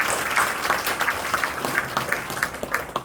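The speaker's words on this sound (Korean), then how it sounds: "하나님께 우리 다 같이 박수를 한번 올려주세요." A church audience applauds at a professional missionary award ceremony, with individual claps standing out in an irregular patter over a softer background of clapping throughout.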